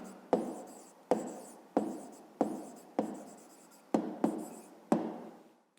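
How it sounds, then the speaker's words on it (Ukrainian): A pen writes an answer on paper by hand: seven or eight crisp, evenly spaced strokes close to the microphone, each a short scratch that fades, with no talking. "Запишемо 14 квадратів."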